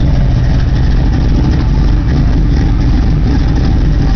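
A 1968 Chevrolet Camaro V8 with true dual 2.5-inch exhaust and Thrush mufflers idles steadily and loudly up close, a deep continuous rumble with no voices over it.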